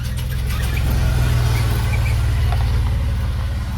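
Salvage-title pickup truck with a faulty brake system being pulled around, a steady low engine rumble with a faint squeal close by, continuous for a few seconds without talk.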